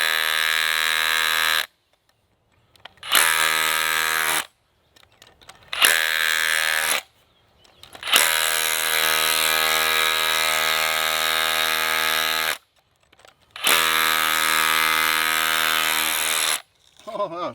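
A Ridgid Octane 18V brushless SDS-Plus rotary hammer, model R86711B, drills into a 4-inch solid concrete block, running in several loud, buzzing bursts of a few seconds each, separated by short pauses.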